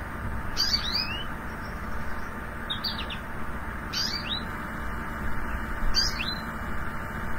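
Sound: recorded bird call sounding like "baby, baby"

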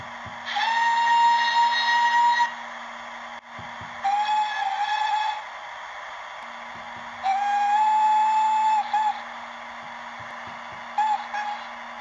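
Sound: Hornby 9F model steam locomotive sound whistles

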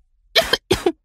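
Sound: cough

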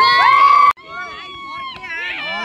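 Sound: crowd hooting and cheering at a high jump competition

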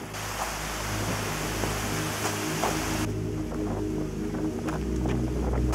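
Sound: waterfall

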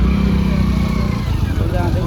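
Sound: motorcycles in traffic

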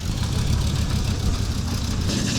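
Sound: car engine running

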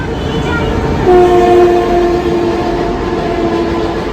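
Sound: train passing overhead

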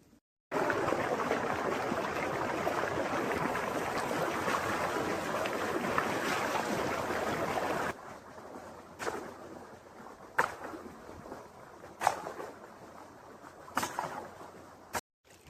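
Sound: water flowing through a field irrigation channel

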